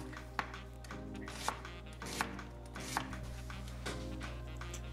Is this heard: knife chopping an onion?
yes